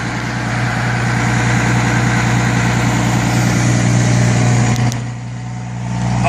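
A Cummins diesel engine idles after a cold start with a loud, steady, close rumble. The drone holds evenly, drops slightly near the end, then swells again.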